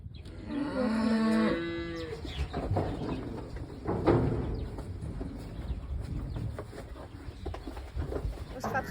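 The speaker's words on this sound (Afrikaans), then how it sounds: "Ons vat gou die beeste terug na hulle kamp toe." Cattle on a farm being taken back to their camp moo loudly once near the start, followed by quieter bird cooing and faint background noise.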